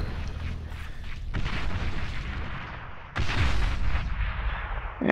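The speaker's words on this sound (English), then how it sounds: "If we go over here, we might be able to artillery bombard them." Artillery bombardment in the strategy video game Beyond All Reason, heavy booming shots rumbling continuously, with a louder burst of impacts about midway and dense low thuds layered throughout.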